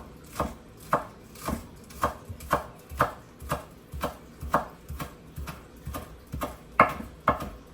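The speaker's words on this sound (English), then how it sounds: "Chop up some green onions." Green onions being chopped with a knife on a board, about twenty evenly spaced sharp chops at a steady rhythm, close and clear, with no talking.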